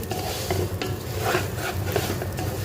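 Rice being fried and stirred in a pot for chicken biryani, a steady sizzle with continuous scraping stir strokes throughout, close and fairly loud, no talking.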